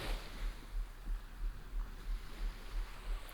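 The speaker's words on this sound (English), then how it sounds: "as you watch the sea breaking on the shore" Sea waves break on a shore as a soft, steady wash of broadband surf noise with a faint regular low thumping beneath. The sound is distant and quiet, and no one talks.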